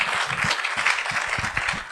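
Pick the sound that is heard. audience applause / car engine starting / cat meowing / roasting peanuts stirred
audience applause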